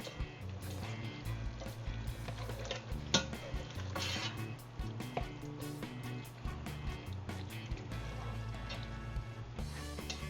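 Taco seasoning and undrained tomatoes being added to browned ground beef in a pan, with scattered clinks, scrapes and stirring over a low sizzle, irregular knocks of utensil on metal.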